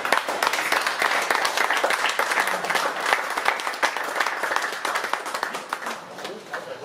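Crowd applause for a boxer at an official professional boxing weigh-in at an Edeka store in Essen, heard as dense, continuous clapping from many people close by, sustained and fairly loud, easing slightly toward the end.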